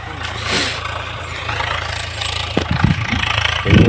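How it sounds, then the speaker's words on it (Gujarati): A tractor engine runs steadily in a cotton field, a low continuous rumble that carries a few clanks and knocks toward the end, with no one talking. "ટ્રેક્ટરે હાલે છે. જોવો તમે"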